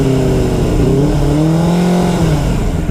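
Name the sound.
Benelli 600i 600cc motorcycle engine revving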